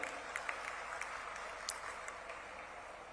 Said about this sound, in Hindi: पधारे सब जन जोरदार ताली बजा के उनका स्वागत करिए